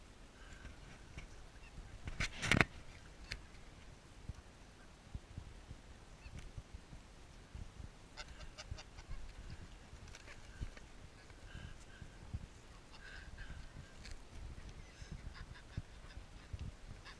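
Geese honk now and then while being hand-fed bread, one louder call standing out early against a low, steady background of rustling and faint activity.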